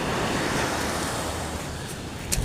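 Sea waves wash steadily against the shore at Dinahican, where fishermen work with nets; the surf roars as a dense, continuous rush with some wind noise, loud and without speech.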